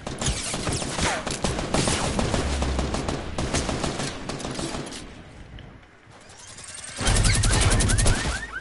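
Sustained rapid gunfire in a video game, loud and close, a dense stream of crackling shots that thins briefly to near silence before another heavy burst erupts near the end.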